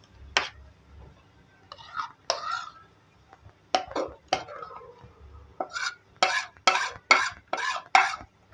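Paste stirred into boiling chicken curry with potatoes gives a series of wet, sloshing stir strokes and spoon scrapes against the pot, coming in irregular bursts and growing quicker and more rhythmic toward the end.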